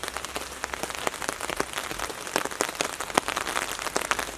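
Rain falls during a thunderstorm at a Ricketts Glen State Park campsite, a steady dense patter of drops drumming on a nearby surface with no voices.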